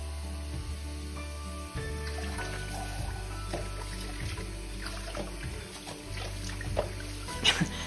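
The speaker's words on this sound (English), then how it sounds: "Just give it a real good rinse." Water runs steadily as a hand-tied Upstage by Raquel Welch wig cap is rinsed, a close, constant splashing flow over a low hum, with occasional soft handling noises and no talking.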